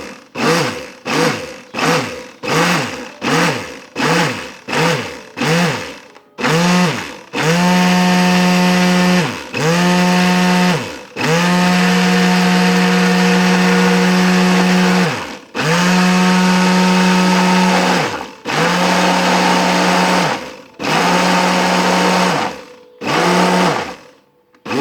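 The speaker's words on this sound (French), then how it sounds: "on va mixer petit à petit" Blender mixes a milk cream sauce for pastilla in short, loud pulses, first rapid bursts and then longer runs with brief pauses between them.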